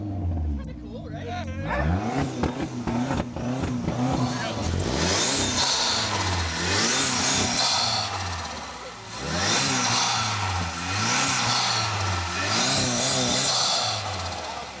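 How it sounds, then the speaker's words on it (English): A 1973 MG Midget engine revved repeatedly in neutral, rising and falling throttle blips over a mid-pitched idle, close and loud, with people talking over it. "I'll let you rev it up"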